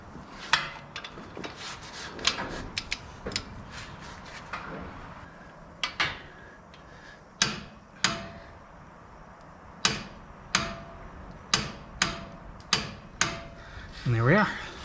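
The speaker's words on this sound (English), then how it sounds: "Time to switch to the torque wrench." Torque wrench tightening a bolt to 90 foot-pounds on a 2021 Jeep Wrangler Unlimited Rubicon, giving a series of sharp, evenly spaced ratcheting clicks close by, with a voice heard early on.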